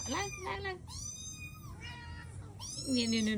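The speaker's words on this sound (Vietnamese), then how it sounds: "con mèo này nè con mèo" A cat meows several times in drawn-out, rising and falling calls close by, with a person talking over and between them.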